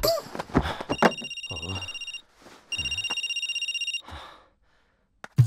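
A mobile phone rings in two loud, steady bursts of a bright electronic ringtone, with short pauses and breathy sounds around them during a Kannada comedy short film.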